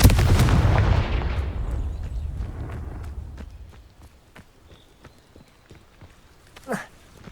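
A Confringo fire spell blasts in Hogwarts Legacy, a loud booming explosion that rumbles and fades over a few seconds, then quieter footsteps and small impacts, and a brief flare of effect near the end.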